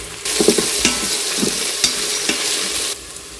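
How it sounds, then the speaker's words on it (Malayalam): Onions with ginger-garlic paste sautéing in a NutriCook Smart Pot 2, a steady close sizzle with scattered stirring clicks and scrapes, no voices, then the frying noise drops away near the end. "സവാള ഒന്ന് വാടി വരുന്ന സമയത്ത് ജിഞ്ചർ ഗാർലിക് പേസ്റ്റ് ഇട്ട് കൊടുക്കുന്നുണ്ട്"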